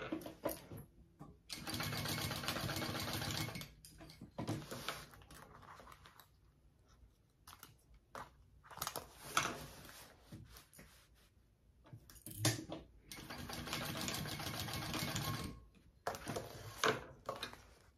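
A sewing machine bastes a handbag side panel in quiet surroundings, whirring in several stitching runs of a few seconds each, separated by short pauses and faint handling clicks.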